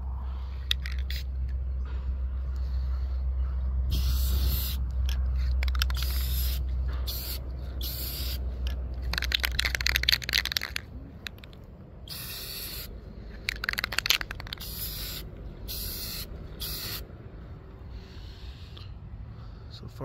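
Aerosol spray paint going onto an Estes Hi-Flier XL model rocket for a second coat, heard as close, repeated short hissing bursts over a low hum, with someone talking between passes.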